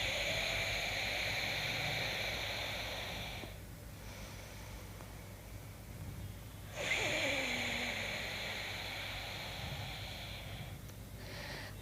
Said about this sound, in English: now we will do exactly the same thing, but with closed mouth through the nose